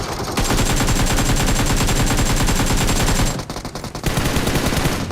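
Rapid, sustained automatic gunfire from the video game BGMI, loud and dense, briefly dipping before resuming, with no talking.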